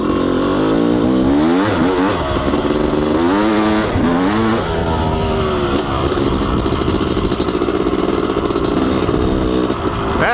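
A Honda CR500 two-stroke enduro motorcycle ridden hard along a single-track trail, its loud, close engine rising and falling through repeated revs and gear changes with a constant raspy drone.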